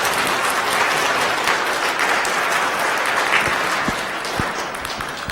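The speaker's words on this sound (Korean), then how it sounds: "여러분들 축하의 박수 보내주시기 바랍니다." A church congregation applauds children's department graduates during a Sunday worship service, steady broadband clapping filling the room for several seconds, with a few louder individual claps standing out near the end.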